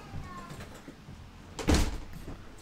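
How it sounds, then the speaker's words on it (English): A door swings shut indoors with one solid thump partway through, while a person talks faintly in the background. "Please close the door."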